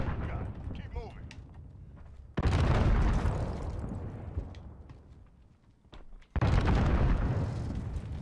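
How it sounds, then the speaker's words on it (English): Heavy C4 blasts in Call of Duty: Modern Warfare gunfight, two loud broadband booms several seconds apart, each with a long rumbling decay, and brief voice chatter before the first. "Being bombarded with C4."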